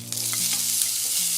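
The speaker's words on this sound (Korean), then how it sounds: "기름을 살짝 둘러주고요, 이제 나머지 것들을요 다 넣고 볶아주겠습니다." Ingredients sizzle as they are stir-fried in a little oil in a frying pan for chicken breast steak, a steady, close crackle with faint stirring scrapes and no voices.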